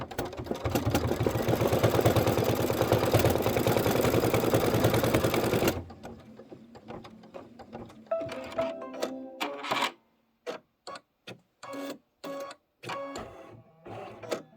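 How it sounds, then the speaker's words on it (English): An embroidery machine sews a chenille basting stitch over fabric with a dense, rapid mechanical chatter for about six seconds. It then drops to quieter, separate bursts of stitching broken by short pauses, close up and with no voices. "we're going to stitch the chenille basting stitch"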